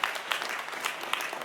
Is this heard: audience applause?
yes